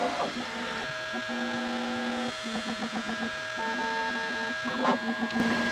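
A Bambu Lab X1 Carbon 3D printer runs auto bed leveling, its stepper motors whirring in short tonal bursts and rhythmic stepping patterns as the nozzle tip probes the plate at multiple positions, steady and close with no talk.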